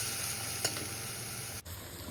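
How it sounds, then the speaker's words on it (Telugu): Garlic paste frying in a pan gives a steady, close sizzle with no break, one brief clink partway through and a short dip near the end. "వేసుకొని బాగా ఫ్రై చేసుకోవాలి పచ్చివాసన పోయేంత వరకు"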